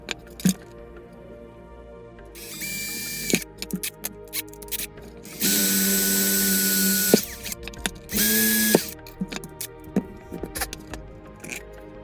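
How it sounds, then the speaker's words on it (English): A drill bores holes in a Klingon Romulan battlecruiser model, with two sustained whirring runs, a shorter earlier burst, and scattered clicks and handling noises in between, close and fairly loud without talk. "let's get these holes drilled out."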